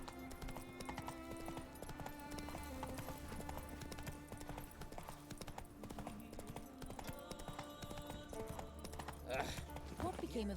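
Hoofbeats of a horse trotting in The Witcher 3, a steady clip-clop rhythm running the whole time under game music and ambience, with a short whinny near the end.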